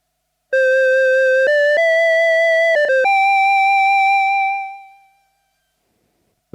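An OP-1 synthesizer set to mimic a Casio VL-1 tone plays a short run of clear, bright electronic notes with a gentle tremolo wobble, stepping through a few pitches before the last note holds and fades away to silence.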